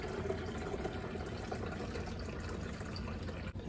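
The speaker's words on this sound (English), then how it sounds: "I'm gonna pour this in so it's filled all the way to the top" Plain water pours steadily from a coffee pot into a coffee maker's reservoir tank until it is filled to the top, a continuous rushing gurgle that sounds close and stays even.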